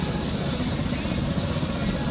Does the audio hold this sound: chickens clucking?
no